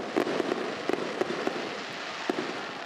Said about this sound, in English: We apologize for the fireworks in the background.